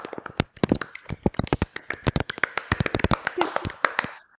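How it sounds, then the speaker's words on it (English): An audience claps and applauds at a talk on smart cities, with dense, sharp hand claps building into sustained applause for several seconds, close and fairly loud, with no speech over it. "let's give him our applause"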